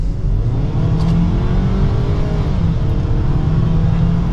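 A 2024 Ford Maverick XLT AWD compact pickup with a turbocharged engine accelerates hard, its steady, loud engine drone building continuously with no talk over it.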